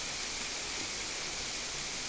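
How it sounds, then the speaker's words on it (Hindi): Heavy monsoon rain pours outside a house, a dense, steady roaring hiss that fills the whole short stretch without any break. "तो हाँ जी दोस्तों, इस टाइम इतनी ज़ोरों से बारिश पड़ी हुई है,"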